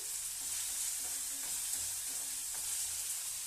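Onion frying with a pinch of salt in a pan gives a continuous, even sizzle, close and moderately loud, with no voices over it.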